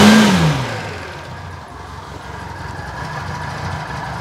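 A Reliant Fox car engine, its idle running slightly rough, settles from a brief falling rev into a steady low idling rumble, close and fairly loud, with no voices.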